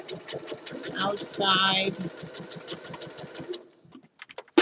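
A sewing machine stitches a Simplicity 8014 shirt dress, a rapid close mechanical whirring and ticking that runs steadily for a few seconds before slowing to scattered clicks, with a person talking over it.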